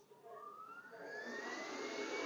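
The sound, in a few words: vacuum system running on a corrugated cardboard printer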